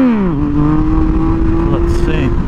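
A motorcycle engine revs and holds a steady high drone on a flat, straight road during wheelies, with the pitch sweeping down then leveling, loud and close, with voices present.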